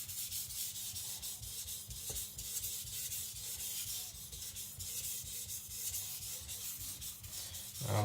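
A Tojiro Shirogami nakiri knife is sharpened on a stone in steady rhythmic strokes, a soft continuous rubbing hiss repeating evenly, quiet and close with no talk.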